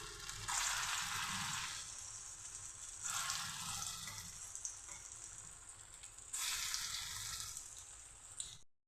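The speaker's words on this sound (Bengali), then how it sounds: "এখন আমি সয়াবিনের কোপ্তাগুলি ভেজে নিচ্ছি।" Soybean koftas fry in hot oil in a kadai, giving a loud, close hiss that swells in three long bursts and eases between them, with no voices.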